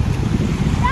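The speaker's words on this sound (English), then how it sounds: "I love the sound of waves." Ocean waves washing onto a private beach near Huron, Ohio on Lake Erie's shore, a steady low rumbling surge mixed with wind buffeting the microphone throughout, continuous and fairly loud.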